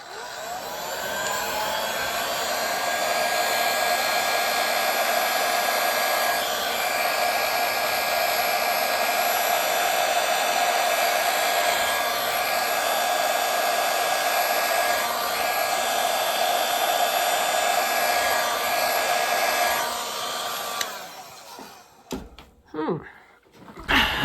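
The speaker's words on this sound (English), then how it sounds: "should use my hairdryer." A hair dryer blows steadily and loudly at close range for about twenty seconds while drying poured paint, then cuts off, leaving a few scattered knocks and movements.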